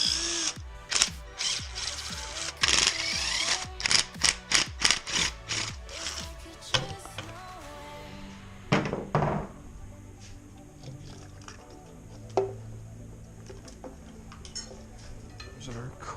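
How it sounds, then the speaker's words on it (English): Carburetor being unbolted and lifted off an abandoned big block Chevy V8 during a teardown: repeated sharp ratchet clicks and metallic clanks, close and fairly loud, in irregular bursts with quieter handling noises between. "we'll pull off this carburetor and see a little bit more of what we are working with"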